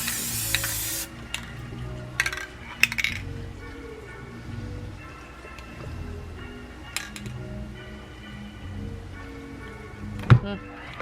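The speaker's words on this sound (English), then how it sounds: "I'm just going to finish spray painting the rest" Several hissing bursts from a can of Rust-Oleum Painter's Touch satin spray paint, a few seconds each with pauses between, close by, plus occasional light clinks.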